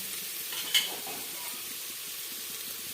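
Khichdi ingredients sautéed in a pan give a soft, steady sizzle and hiss, with a brief faint clink of stirring near the start.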